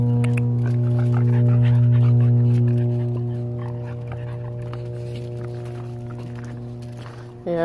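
A dog whimpers and whines in long, high, drawn-out tones. The sound is close and steady, with faint movement in the background.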